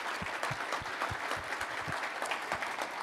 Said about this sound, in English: So a huge round of applause to them